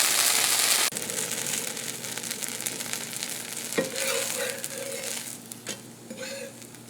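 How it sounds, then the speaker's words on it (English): Fenugreek dosa fries in a pan with a constant close sizzle, a louder burst at the start, then a few scraping and clattering touches as it cooks, without speech. "Let's leave it in the pan for like 1 or 2 minutes until it turns brown, and then we'll flip it."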